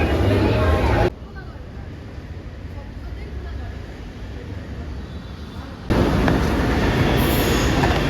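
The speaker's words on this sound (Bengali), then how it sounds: "আমরা জাস্ট এলাম আর একটা ট্রেন বেরিয়ে চলে গেল" A Kochi metro train pulls out of the station. A loud, steady rumble of wheels on rail fills the scene with some squeal, and the level dips briefly before surging back up.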